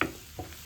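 Onion and garlic hit hot oil in a skillet with a brief sizzle and stir, a short close burst of frying that fades quickly.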